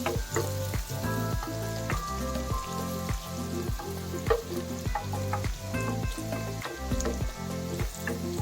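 Onions sizzle loudly in a pan while being stirred in a steady rhythm, regular scraping strokes over a bright crackling fry, close up with no voices.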